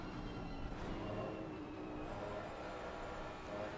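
An American Ford race car engine in a sim racing game, running flat out on a straight below sixth gear: a steady, faint, droning roar with layered tones and no talk.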